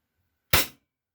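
A single sharp crack from a WE Glock 17 Gen 4 airsoft pistol, a short, loud report that fades within a fraction of a second, with silence before and after.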